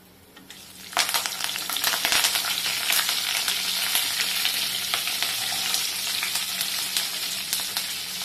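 Green chili, curry leaves and onion hit hot oil together, bursting into a loud, steady sizzle that starts abruptly and holds with crackling pops throughout, no voices.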